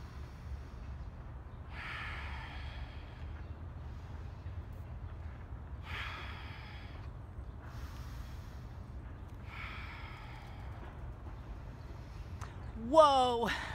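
Slow, deep breaths during a breathing exercise come as four separate airy inhales and exhales a few seconds apart, quiet and close over a low steady background, followed by a brief voice at the end.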